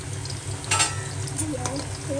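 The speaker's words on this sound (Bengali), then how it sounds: "এই কটা ভেজে নিই" Chips fry in a pan, giving a continuous close sizzle broken by brief scraping stirs, with no talking.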